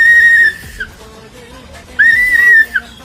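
A loud, shrill whistle blasts twice with a pause between, the second blast ending in a short chirp; no talk.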